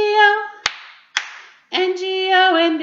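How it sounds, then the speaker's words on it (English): Two crisp hand claps from children in the middle of a Bingo sing-along, each ringing briefly, with singing before the claps and picking up again right after. "clap two times"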